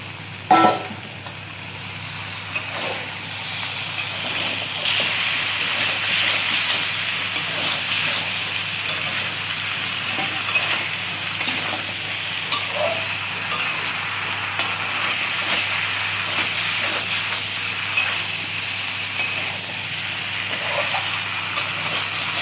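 Potatoes and coconut sautéing with unripe jackfruit curry in a pan, a steady broad sizzle and hiss running throughout, with occasional stirring scrapes and no voices.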